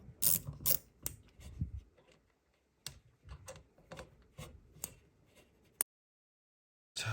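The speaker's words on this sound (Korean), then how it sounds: "저는 뭐 라쳇으로 이렇게 하고 있지만" A ratchet clicks in quick bursts while screws are turned out during disassembly of a Gaggia Classic Pro espresso machine, with close, crisp ratcheting runs separated by short pauses.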